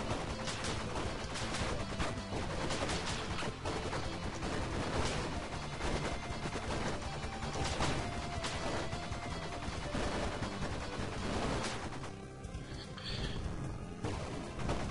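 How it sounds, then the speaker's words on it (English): Nonstop gunfire fills the Bleed video game, a dense, loud wall of rapid shots running without a break for the whole stretch and easing off only slightly near the end. "I'm just gonna keep firing non-stop"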